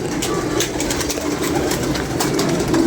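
Low, soft pigeon cooing close by, repeated murmuring calls over a steady background hum.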